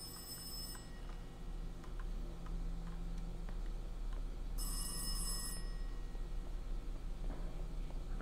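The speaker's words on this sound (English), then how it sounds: "I hear the phone, but I don't see the phone." Telephone ringing inside the video game Welcome to Kowloon, two bursts of bright electronic bell rings, one at the start and another midway, heard alone over a dark low ambient hum.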